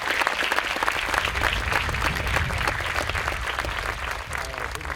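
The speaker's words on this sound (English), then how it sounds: "Let's give them a round of applause." Steady, dense applause from a school graduation audience fills the hall, a continuous wash of clapping that stays loud and even throughout with no speech over it.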